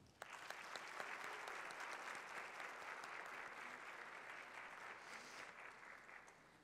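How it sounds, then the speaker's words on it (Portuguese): An audience applauds at a legislative assembly honorary citizenship ceremony, a sustained, dense clapping that starts abruptly and holds steady and even for several seconds before easing slightly. "Agora, podem aplaudi-los."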